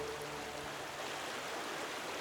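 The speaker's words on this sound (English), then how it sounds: "that's more rapids up ahead" Fast-flowing rapids on a river roar as a steady, broad rushing wash, continuous and fairly close, with no voices.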